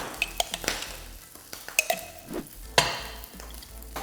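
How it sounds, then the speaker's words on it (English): Salmon salad being mixed with avocado oil-based mayonnaise in a bowl, heard as soft, wet scraping strokes with a few sharp clicks of the utensil against the bowl, close and fairly quiet, with no talking. "Mix that up."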